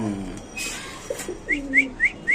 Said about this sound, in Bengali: আমরা যদি একটু বোম্বাই কবুতরের ডাকটা একটু দেখাই দিই আপনাদের